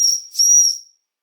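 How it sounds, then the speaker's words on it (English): Steam hisses and whistles from a mid-1960s Fleischmann 130/2 model steam engine fired by a spirit burner, a steady high whistling hiss in two close surges that fades out within a second. "Steam's building up."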